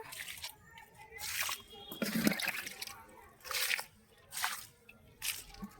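Diluted kitchen waste water poured onto garden plants, soft splashing and squishing pours in irregular bursts, with a voice speaking over them.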